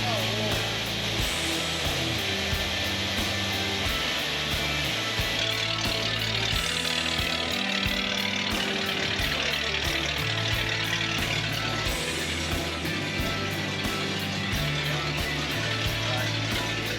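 A 1962 Mercury engine idles steadily throughout, a low uneven rumble with a slight rhythmic lope, close by and unbroken by talk.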